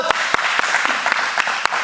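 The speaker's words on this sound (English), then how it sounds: "Congratulations, round of applause!" A round of applause after a small success: scattered, sharp claps in an irregular rhythm over a steady broadband hiss, fairly close and moderately loud, with no talking.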